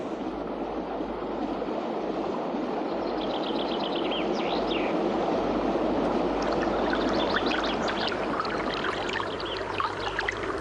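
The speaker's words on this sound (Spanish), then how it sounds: "el gran bosque alberga el sonido de numerosas aves" Numerous birds chirp and trill in the Caledonian forest in midsummer, their small scattered calls faint over a steady rushing wash like flowing water.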